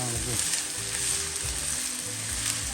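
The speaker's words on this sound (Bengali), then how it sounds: "তেলটা গরম হয়ে যাওয়ার পর দিয়ে দিব অনিয়ন" Chopped onions hit hot oil for heavy khichuri cooking in a conservatory and sizzle steadily, a loud, continuous frying hiss with occasional stirring scrapes, no voices.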